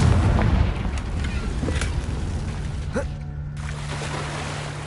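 A blasting spell detonates in a Harry Potter video game, a loud rumbling boom with crackling debris over a dense low roar, followed by a sharp burst and a sustained low hum as the blast fades.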